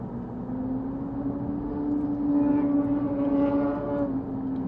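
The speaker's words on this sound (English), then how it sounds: "That guy's going pretty fast on a motorcycle." A motorcycle engine drones past at speed, its tone swelling louder and rising in pitch before easing away.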